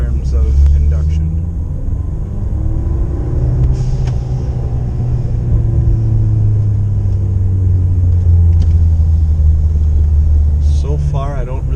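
A Ford Fiesta ST fitted with a RamAir drop-in filter rolls in first gear, its engine a steady low rumble from inside the cabin, with a voice talking briefly at the start and end.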